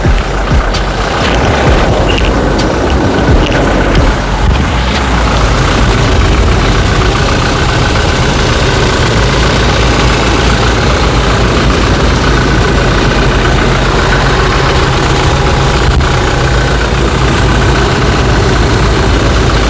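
A 2016 Toyota Hilux Revo 2.4 diesel pickup engine idles loudly right at the microphone, a constant rough low rumble with steady clatter and vibration throughout.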